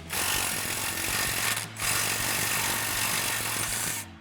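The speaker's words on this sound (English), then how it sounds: "So now I'm going to take an 18 millimeter wrench and an 18 millimeter socket on my 3/8 gun" A 3/8 impact gun with an 18 mm socket hammers loose a lower bolt on a Jeep Wrangler JK during a shock install, two loud continuous rattling bursts split by a brief pause, close and alone.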